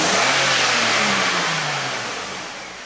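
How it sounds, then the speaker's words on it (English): A 2006 BMW X5 with a random misfire fault revs loudly up close, the engine note rising and then easing back down toward idle, no talking. "So let's just rev it real quick"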